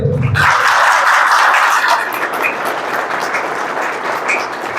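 After a brief spoken word, a church congregation at Sadhna Sadan in Chianki, Daltonganj, claps together in a loud, sustained round that eases off a little but continues to the end.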